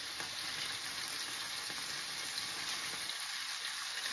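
Food browning in a hot pan for a cauliflower jambalaya with sausage and shrimp sizzles steadily and close by, a dense continuous fry with no pauses and no talk.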